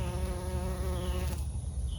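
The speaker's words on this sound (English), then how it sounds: "the bees are all over them" Bees buzz steadily around dahlias in an autumn flower garden, a close, continuous droning hum that shifts in pitch as an insect passes, with no talking.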